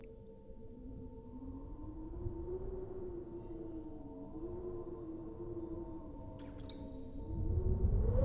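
Bird chirping inside the Colossal Cave VR game, a steady, fairly faint warbling tone over a low ambient hum, with a brief brighter burst of chirps near the end.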